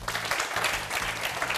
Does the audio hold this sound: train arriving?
no